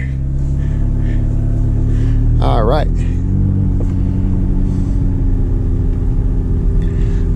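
A McLaren 570GT's twin-turbo V8 rumbles deeply and steadily at low speed from inside the car, with a brief spoken remark partway through.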